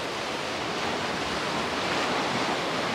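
Steady, even surf of ocean waves washing onto a rocky beach along the coast, a continuous broadband wash holding at the same loudness throughout with no voices.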